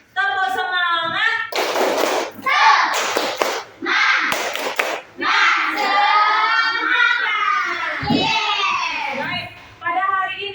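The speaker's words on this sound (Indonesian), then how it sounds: "kita tepuk semangat dulu ya" A fifth-grade classroom performs the tepuk semangat clapping chant, with sharp bursts of rhythmic group claps between sung and spoken lines in children's and a teacher's voices.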